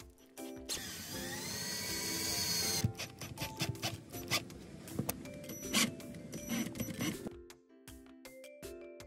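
A power drill bores through backsplash tile around an RV window, starting with a steady whining grind for a few seconds, then breaking into choppy bursts of drilling and rattling before stopping, close and fairly loud.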